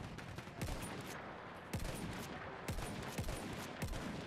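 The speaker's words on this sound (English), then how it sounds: "It sounds like a damn shotgun is what it sounds like." Gunfire rattles in the Battlefield 1 battle: a steady run of sharp, booming shots, some heavy like a shotgun, cracks out over a loud backdrop of combat noise, with no voices over it.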